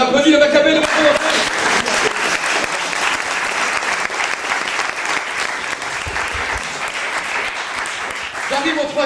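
Loud, sustained applause from an audience, dense clapping filling the whole stretch without pause.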